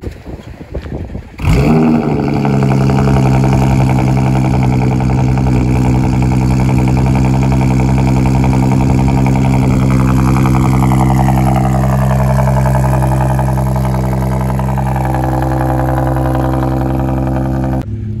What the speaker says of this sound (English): But here's a cold start. Let's get a cold start.